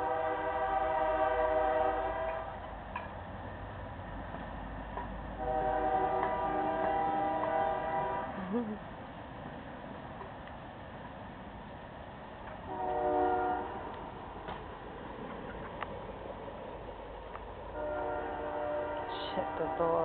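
A train horn blows in several long, blaring blasts over the low rumble of a passing train, moderately distant.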